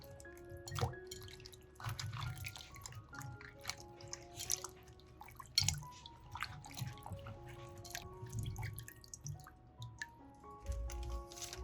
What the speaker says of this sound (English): Rinse until the water is clear.